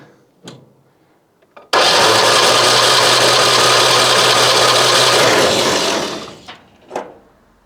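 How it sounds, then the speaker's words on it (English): A Citroën AZU engine is cranked over with its spark plugs removed and the throttle held full open for a compression test. It gives about four seconds of loud, continuous whirring, with brief clicks before and after. "And then spin it over a couple of times with full throttle."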